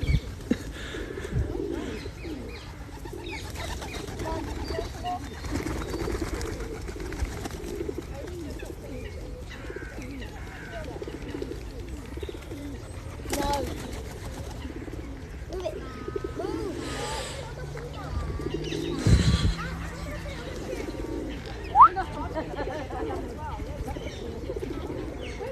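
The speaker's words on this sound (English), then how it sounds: "Now there's a pigeon on my head again." A pigeon perched on a person's head outdoors in London gives soft, low, intermittent coos close by, mixed with other birds and a nearby voice talking.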